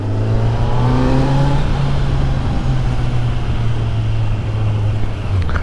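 A new Kawasaki Z900 superbike, still in its break-in period, rides along with a loud, steady low engine drone and a brief rising rev at the start, close and continuous with no talk.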